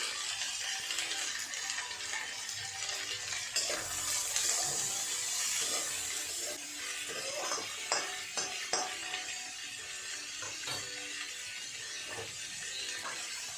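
Kakchi fish sizzling in a pan as it is fried and stirred, a steady crackling hiss broken by scraping stirs and soft clicks, with no talking.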